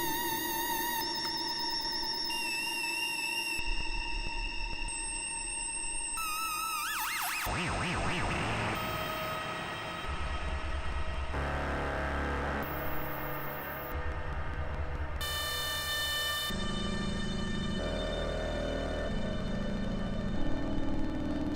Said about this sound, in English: So I'm FMing that first tone.